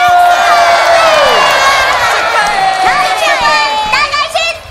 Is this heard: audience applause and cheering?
yes